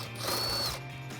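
A ratchet with a 13mm socket on a 3-inch extension loosens bolts on a Rugged Ridge Spartacus tire carrier hinge on a Jeep Wrangler JL, giving a short burst of close, steady mechanical clicking with no talk.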